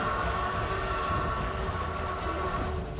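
The Durango Silverton narrow gauge train rolls along in a steady, continuous rumble heard from inside a carriage, with a droning hum over it and no distinct horn or clatter.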